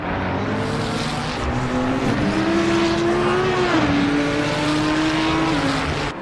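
GT3 race car in Assetto Corsa Competizione braking hard over a crest and down a hill into a corkscrew, a loud continuous engine whine that rises, dips with downshifts and climbs again, with no voices heard.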